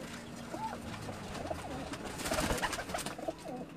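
A pigeon coos softly in low, rounded repeated calls, close by, with faint background noise and no speech.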